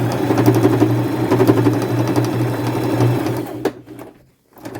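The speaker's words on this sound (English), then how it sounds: "go forward, back, and finish sewing that ruffle on" A sewing machine running a zigzag stitch to attach a ruffle onto denim jeans, with a steady, fast mechanical whir and hum close by that stops briefly near the end.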